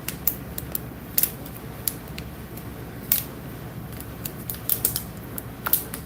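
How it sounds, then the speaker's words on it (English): Small crinkly tearing and scraping sounds of a paper label torn off a water bottle, faint and intermittent, with sharp little clicks scattered across a quiet room. "I'm just trying to tear this paper off this water bottle"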